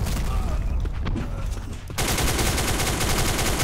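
Rapid gunfire from the online shooter Black Squad in a team deathmatch, starting partway through as a loud, dense, continuous burst of shots that fills the rest of the stretch after quieter game ambience.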